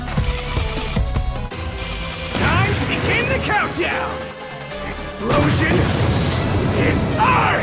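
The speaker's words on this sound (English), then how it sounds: "Time to begin the countdown. Explosion." Explosions and crashing bursts from the Mega Man 11 video game, loud and repeated over busy game music and effects, with a heavy boom near the middle and a dense burst of blasts toward the end.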